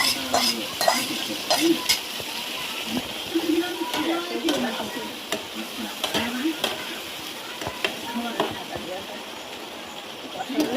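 Ground cumin, chilli powder, ginger paste, chopped tomato, salt and turmeric sauté in a pan, with repeated sharp spatula scrapes in a loose rhythm over a low sizzle while a voice talks intermittently.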